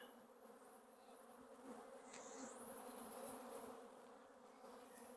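A honeybee colony buzzes steadily as its brood nest is opened. The drone is faint but continuous and swells slightly in the middle, with a few individual bees passing close.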